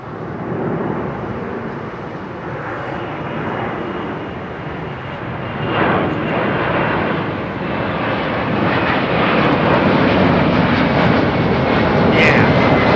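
An AeroLogic cargo jet departs Heathrow, its engines building into a loud, sustained roar that swells further partway through and keeps rising to the end, with no talk.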